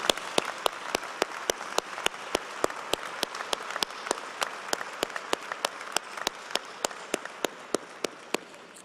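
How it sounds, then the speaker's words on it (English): At a spring commencement for a college of health and human development, audience applause continues under regular sharp, evenly spaced claps that cut through the steady crowd noise. "let's take a second right now and give a round of applause to the graduates who are not here"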